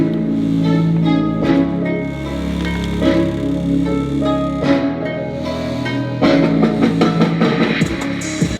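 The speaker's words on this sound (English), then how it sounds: "So let's go with an after and see how they sound after the installation." Full-band music through newly installed car speakers in a Mazda Miata, with strong bass and steady harmonic tones, plays continuously, loud and close, with a few brief dips and swells.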